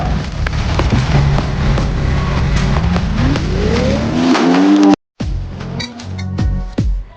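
A car pulls away in a comedy scene. A loud engine note rises as it accelerates off and fades. After a sudden cut, faint clattering and scattered noises follow.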